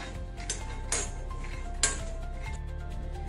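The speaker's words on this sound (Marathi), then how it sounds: "शेंगदाणे सारखे हलवत राहायचे, नाहीतर एकाच बाजूने जळले जातात।" Peanuts being dry-roasted and stirred in a pan for chutney, with a few distinct metallic scrapes and clinks of the spoon against the pan over a steady low background.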